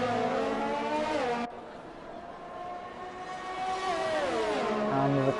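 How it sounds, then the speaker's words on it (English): A Racing Point Formula car in a racing video game screams past flat out through a corner, its high engine note sliding down and climbing again as it shifts, loud and steady with little else over it. "Oles comes around the second last corner, flat out as he can in that Racing Point"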